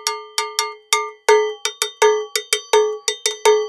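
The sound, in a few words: cowbell struck with a small stick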